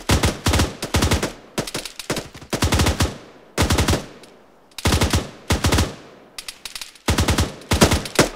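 Close, loud automatic gunfire rattles in repeated short bursts during a firefight in the Arma 3 video game, with brief gaps between volleys and echoing tails.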